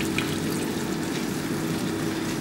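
A quarter cup of water poured into a pan sauce of mustard and honey for pork medallions, giving a steady, close, continuous rushing pour with no voices.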